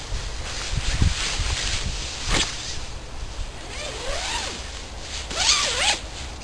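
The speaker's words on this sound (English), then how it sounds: "so get in and zip up" A hammock's zipper is pulled closed in several drawn-out rasping strokes, close to the microphone, with light fabric rustling around them and no voices.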